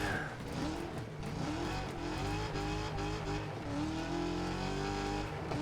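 Racing cars in Wreckfest 2 roar and rev loudly and continuously, tires squealing, with a few sharp broadband knocks that suggest a car being rammed into a wall.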